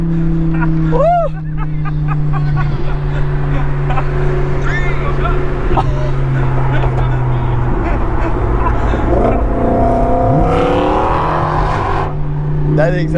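An 800 WHP twin-turbo Heffner Lamborghini Gallardo in sport mode roars loudly and steadily under hard acceleration. A deep, continuous engine drone climbs in pitch toward the end, while excited voices whoop and shout over it close by.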